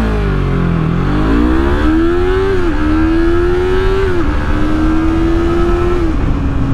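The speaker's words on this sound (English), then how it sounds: "why don't we get a quick 0-60 acceleration test, shall we?" Yamaha MT-03 motorcycle, 2023 model, accelerating hard from a stop, the engine note climbing steeply in three rising pulls with brief dips at each upshift, loud and close under wind noise.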